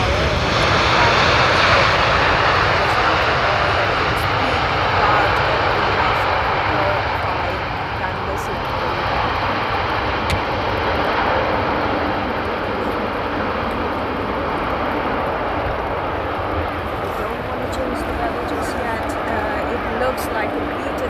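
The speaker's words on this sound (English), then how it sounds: "It's a Boeing 777 landing right there in front of you." A Boeing 777 landing at Amsterdam Schiphol Airport on the Polderbaan, a steady, loud, broad engine roar that holds for the whole stretch and eases slightly partway through, with someone talking over it.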